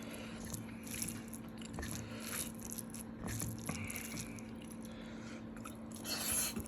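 Someone eats shrimp curry close to the microphone, with quiet, repeated biting and soft wet chewing sounds over a low background hum.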